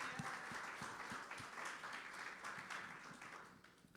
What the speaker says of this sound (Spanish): Dame un aplauso al Señor